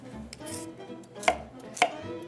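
A knife chops cucumber into pieces on a cutting board, giving a few crisp, separate knocks close up against a quiet kitchen background.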